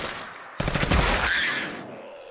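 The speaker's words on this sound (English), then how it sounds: "It changes the gun into a freaking machine gun." A machine gun fires in Fallout 4 survival mode, sounding as a sudden loud burst of rapid automatic shots that rings out and fades into a lingering echo over about a second and a half.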